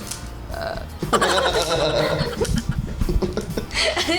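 A person lets out a loud, drawn-out burp close by, followed by laughter and chatter from others.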